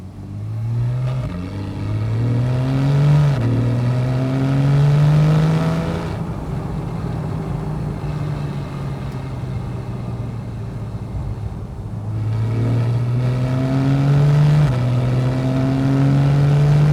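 A Porsche 911 Carrera S (991.1) engine revving hard with deep exhaust roar on an icy day, rising in repeated pulls, dropping to a rumbling idle midway, then climbing again; loud and close, no talk.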